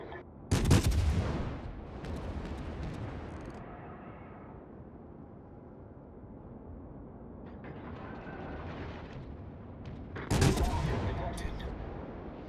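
Naval gunfire in the World of Warships video game, with a Duke of York battleship engaging: two loud, booming salvos, one near the start and one near the end, each trailing into a long rumbling decay over a steady low background.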